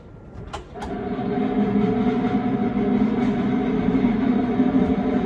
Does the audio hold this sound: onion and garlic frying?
no